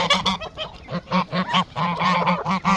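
Çorum geese honk loudly and repeatedly in a rapid, overlapping chorus of harsh nasal calls, close by.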